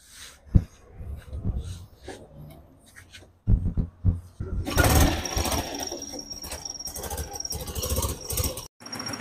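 A small engine runs after a magneto repair and oil change, its holed exhaust giving a leaky hiss. Sparse knocks and clatter come first, then the motor settles into a steady, close, noisy drone.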